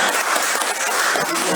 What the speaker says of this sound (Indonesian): Tepuk tangan bagi Allah kita yang berdoa